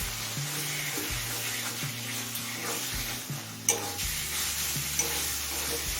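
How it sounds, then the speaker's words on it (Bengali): Small boneless chicken pieces sizzle and fry in a pan of spice masala while being stirred, with scraping strokes and a couple of sharp clinks over a steady background hiss. "এবার দিচ্ছি ছোটো টুকরো করে কেটে নেওয়া 500 গ্রাম বোনলেস চিকেন।"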